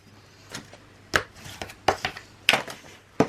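Paper for a scrapbook photo album is cut in a few short, crisp snips, about five distinct sharp strokes spaced irregularly over a few seconds, close and fairly loud with no talking.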